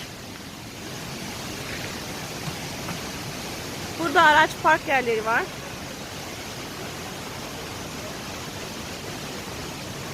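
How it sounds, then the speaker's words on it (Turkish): Palovit waterfall in Rize, Turkey rushes as a steady, broad roar throughout, with a person speaking briefly partway through over the constant water noise. "Arkadaşlar Poyviz Şelalesi'ne geldik."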